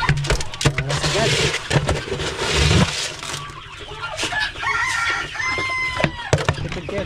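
Chickens on a farm cluck steadily close by while a rooster crows, mixed with other fowl calls, and people talk over parts of it.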